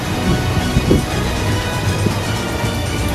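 Typhoon Uwan wind swirls around a nipa hut before dawn, a constant loud rushing roar mixed with rain noise and a few deep low thumps.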